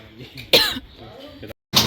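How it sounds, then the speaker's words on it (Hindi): A woman coughs sharply twice, close by, with soft murmuring in the background between the bursts. "कैसे खांसती मैं, अच्छी ना।"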